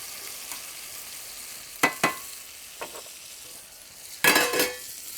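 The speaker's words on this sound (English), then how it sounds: "And then I'm going to put the peas in it now" Peas cooking in a pan with chicken stock give a soft, steady simmering hiss, broken by a few close stirring scrapes and one longer burst of sizzling near the end.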